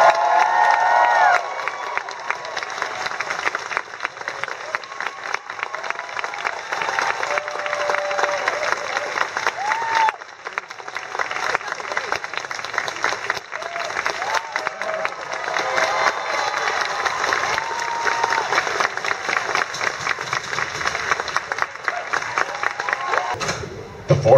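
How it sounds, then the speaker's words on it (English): A crowd at an Air Force Honor Guard drill team performance cheers and applauds loudly and continuously, with a dense wash of clapping and shouting throughout. "the louder you cheer"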